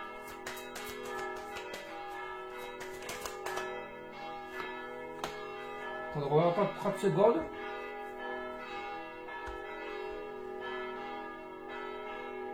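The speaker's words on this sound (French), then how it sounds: "On va laisser sonner ces cloches." Church bells ring in a steady, sustained peal with layered tones through the whole stretch, loud and near, while someone speaks briefly over them and a burst of other sound rises midway.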